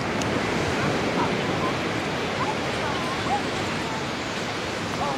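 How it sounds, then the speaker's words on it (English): Steady broadband roar of ocean surf washing onto the shore, continuous and fairly loud with no talking. "Listen to that ocean."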